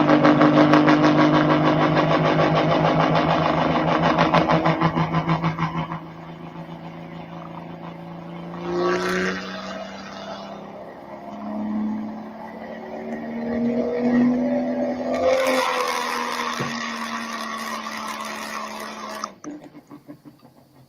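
A pulling tractor's engine at a live pulling event roars loud and close with a strong droning pitch, then eases off and surges again in uneven revs before cutting out abruptly.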